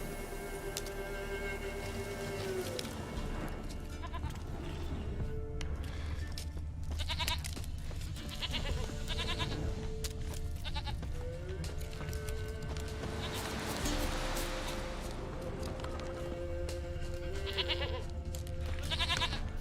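Goat bleats from The Witcher 3 video game, heard at moderate distance over a steady game soundscape of ambient music, with occasional hoof clip-clops and several repeated cries spread across the scene.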